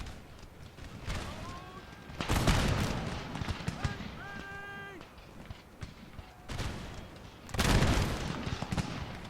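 Musket volleys crack out in the Empire: Total War battle game, with two heavy, crashing bursts of massed gunfire separated by quieter battlefield noise and sustained tonal notes.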